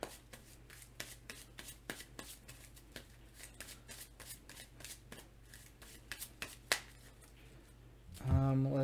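Cards are drawn and handled during a Marvel Legendary board game, producing a run of quick, crisp flicks and snaps at close range in an irregular rhythm, followed by a louder burst of rustling at the end.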